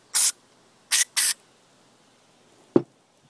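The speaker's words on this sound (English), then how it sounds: "Let's spray some shit in there." Three short hissing bursts of aerosol cleaner spray into a disassembled brake caliper, close and crisp, followed by a single sharp clack after a pause.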